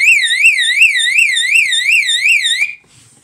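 Fire alarm system on a demo board sounds a loud, close electronic whooping tone that sweeps up and down quickly and steadily, then cuts off, leaving a faint low hum.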